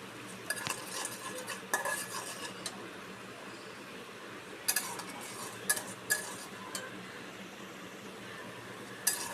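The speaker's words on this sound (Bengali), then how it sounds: "এটাকে ভালো করে এখন কষাবো।" A spoon stirs and scrapes blended spice paste sautéing in hot oil in a metal pan for egg bhuna, making steady clinks and scrapes over a soft continuous sizzle.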